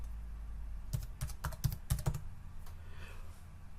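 A short burst of computer keyboard typing in a quiet room: a quick cluster of crisp key clicks in the middle, with no talking and a faint background hum on either side.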